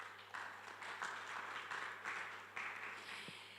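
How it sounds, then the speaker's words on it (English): Audience applause at an education conference: a steady patter of many hands clapping at moderate distance, swelling in waves over a faint low hum. "you want to clap? Please clap"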